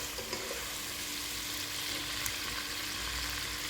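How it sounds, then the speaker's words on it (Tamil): Prawns frying in hot oil in a pan, a steady, even sizzle that holds at moderate loudness throughout with no voices. "அதுல இந்த எறாலை போட்டு ஃபர்ஸ்ட் வறுத்துக்கலாம்"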